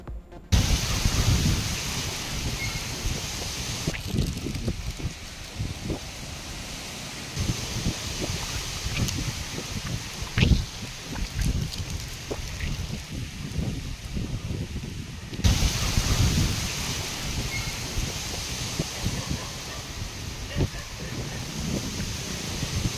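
Gale-force wind storm sweeping the Tiruvallur area, a steady roaring broadband rush with gusty surges and occasional sharp knocks, loud and continuous throughout with no voices.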